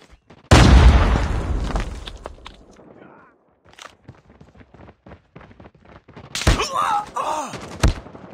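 A grenade explosion booms loudly near the start of Call of Duty gameplay, followed by scattered footsteps and shuffling, then another burst of gunfire or blast later, with voices briefly heard.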